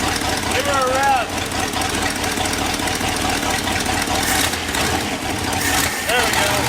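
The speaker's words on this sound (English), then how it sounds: "Give her a rev." Ford F100 truck engine running and revved after sitting abandoned for years, a loud rough rumble that swells under a voice, with a brief squeal near the start.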